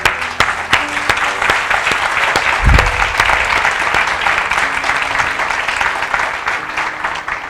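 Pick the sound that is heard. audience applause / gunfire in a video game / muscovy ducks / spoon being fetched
audience applause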